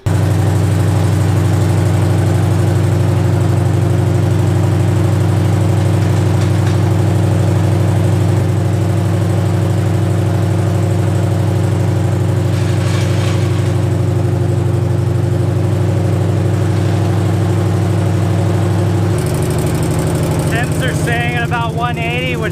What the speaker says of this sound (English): Just idling with the fans on